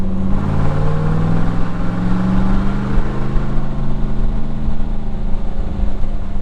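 A 1970 Corvette V8 engine pulls under throttle on a test drive, a loud, steady low rumble with rising harmonic tones through the opening seconds that settles into a continuous drone.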